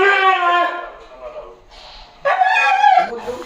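A dog whimpers and yips in high, whining cries close by, with a pause and then a louder, longer whine, while people talk over it.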